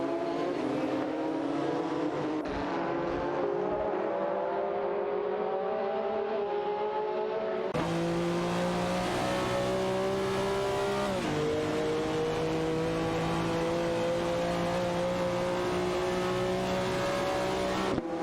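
Simulated race cars, including a Maserati Ghibli and a Lamborghini Diablo VTT, roar continuously in a racing game, engines rising and shifting pitch as they accelerate, with occasional tire squeal and a sudden louder surge midway.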